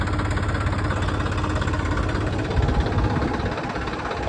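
A farm tractor engine idling nearby, a loud, steady low rumble with constant vibration and no pauses.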